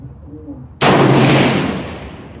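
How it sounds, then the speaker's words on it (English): A single loud rifle shot from a TC Compass in 6.5 Creedmoor with a LimbSaver barrel dampener, fired at a target while sighting in. It cracks sharply after a quiet moment, then rings out in a long, slowly fading tail. "first we're gonna squeeze the rounds at the bottom target to make sure we are sighted in"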